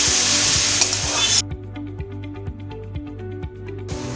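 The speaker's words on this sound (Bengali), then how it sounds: "তখন আমি একটু নাড়িয়ে নিই, নাড়িয়ে দিই একটু, বেশ পেঁয়াজটা ভাজা ভাজা হয়ে আসবে যখন" Chopped onions frying in a pan, a bright hiss of sizzling at first that then drops away to a series of regular spatula scrapes and taps against the pan, close by, before the sizzle swells again.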